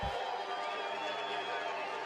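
Steady roar of a stadium crowd at a women's football game, Chicago Bliss hosting Atlanta Steam, a dense continuous wash of cheering voices that stays loud and even with no break.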